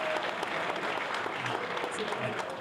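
Townhall meeting crowd giving another round of applause, steady clapping from many hands at moderate level, with a few voices murmuring faintly underneath.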